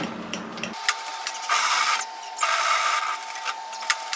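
A sewing machine runs in bursts while stitching the centre line down a messenger bag, a steady mechanical whir starting and stopping several times, close and clear with no talking.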